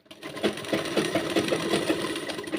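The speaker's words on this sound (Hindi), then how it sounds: "और अब ऊपर सिलाई लगा देंगे" Sewing machine stitching a blouse in a tailoring session, a quiet, quick rhythmic needle chatter that runs steadily for a couple of seconds with no talk.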